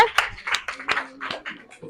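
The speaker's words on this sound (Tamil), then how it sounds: "சரி கைதட்டுங்க" A few people clap hands at a 75th birthday celebration for a mother, with several loose, uneven claps spread through the moment, mixed with voices and soft laughter close by.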